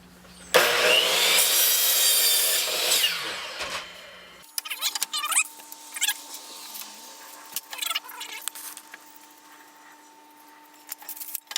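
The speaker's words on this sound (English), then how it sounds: "I've got my saw ready here, and I'm going to make a cut." Hand saw cutting a piece of wood, a loud raspy burst of sawing strokes for about four seconds, followed by quieter scattered clatter and handling sounds of wood pieces.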